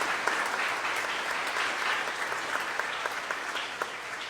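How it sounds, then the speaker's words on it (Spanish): A church congregation at a Sunday Mass applauds in congratulation, a steady, moderately loud wash of many hands filling the room with no talking over it. "le damos un fuerte aplauso de felicitación"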